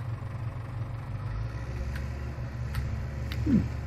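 A Massey Ferguson tractor idles quietly in Farming Simulator 17, a low, steady engine hum that stays constant throughout with no revving.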